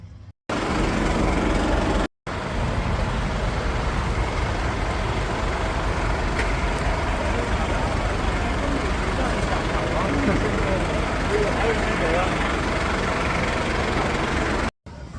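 Road traffic with trucks and buses idling makes a loud, steady, close-up engine rumble and broadband roar that fills the whole stretch, interrupted only by two brief cuts near the start.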